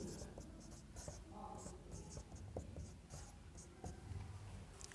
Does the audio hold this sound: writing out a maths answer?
yes